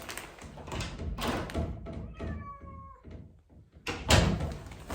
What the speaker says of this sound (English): my cat is scratching at the door